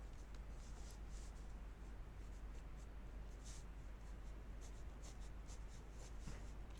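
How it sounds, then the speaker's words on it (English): A pen scratches across paper in quick, irregular strokes, close and quiet, with a low steady hum underneath and no talking. "I've got my pen and paper and I'm just writing down."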